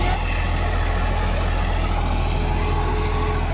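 A tractor pulling a tota plough through a field runs with a continuous heavy diesel drone, loud and near, its engine pulse steady and unbroken throughout.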